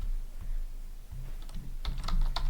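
Fingers tap out a short burst of keystrokes on a computer keyboard, quiet and close, with scattered clicks that quicken toward the end and no voices.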